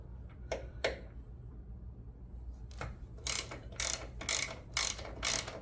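A ratchet wrench loosening a 10mm bolt on a gen 1 Coyote Ford Mustang, a couple of clicks first, then a run of five quick rhythmic ratcheting bursts, close and clear.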